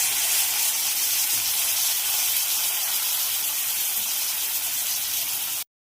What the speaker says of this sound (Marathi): हे पण छान कांदा टोमॅटोमध्ये मी परतून घेणार आहे.